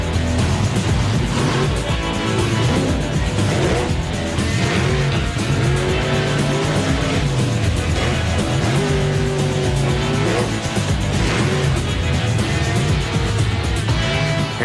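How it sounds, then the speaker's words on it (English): A Bigfoot monster truck doing a freestyle performance at a monster truck show, its engine roaring loudly and continuously with revving surges and tire noise over a crowded arena. "And now it's time for Eric Tack, one of the most experienced drivers on the Bigfoot team, to do his freestyle."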